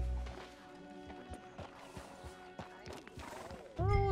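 Steady clip-clop of hooves under a musical backdrop in the video game Red Dead Redemption 2, ending in a loud, wavering horse neigh up close.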